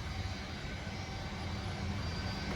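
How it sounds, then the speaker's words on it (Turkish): A passenger airplane passes overhead, its steady broad engine roar filling the clip at moderate distance, constant and unbroken throughout with no voices. "Bak gidiyor uçak."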